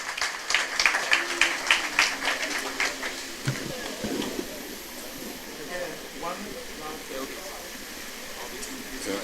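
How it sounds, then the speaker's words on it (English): Applause from a gathered audience at a political engagement with fisheries representatives in Ghana, a burst of clapping that fades over the first few seconds into room murmur and voices. "Let's give him a round of applause."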